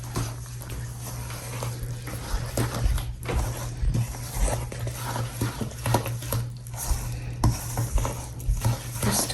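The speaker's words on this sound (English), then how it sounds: "Then that just gets stirred together." A spoon stirs vanilla extract into the wet ingredients for chocolate cake batter in a bowl, making close, repeated scraping and light clinking that runs steadily throughout, with no talking.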